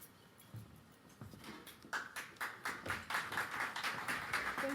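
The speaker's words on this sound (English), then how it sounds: "Thank you for that rousing round of applause" At a South Jersey legislative conference, an audience claps in a quick, rhythmic patter that swells from sparse taps into fuller, steady applause, heard at moderate distance.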